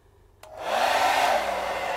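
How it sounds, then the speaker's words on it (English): A blow dryer switches on with a click and spins up to a loud, steady whoosh of hot air, aimed at fresh polyurethane on a wooden steering wheel, close by and uninterrupted. "We could speed up the process by using a blow dryer."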